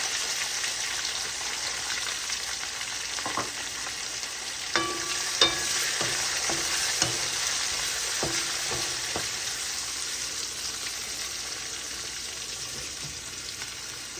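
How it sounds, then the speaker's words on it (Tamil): Onions with curry leaves and green chillies fry steadily in a pan, a continuous broadband sizzle with a run of sharp spatula scrapes and taps through the middle, close and alone with no talking. "இப்போ வெங்காயம் வந்து விரைவில் வதங்கிடும்."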